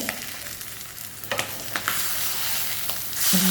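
Sardines fry in a non-stick pan with a steady close sizzle and crackle, while a few scraping knocks mark them being stirred; no talk.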